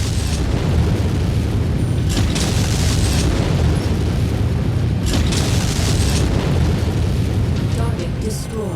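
Missile explosions in MechWarrior come as loud, heavy booms rolling one into the next, with several sharp bursts landing close together in a dense barrage that carries on throughout.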